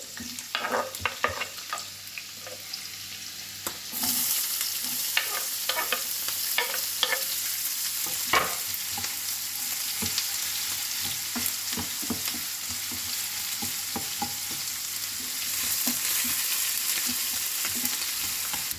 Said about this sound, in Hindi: अब इसमें हम डाल देंगे प्याज और चॉप्ड ग्रीन चिली।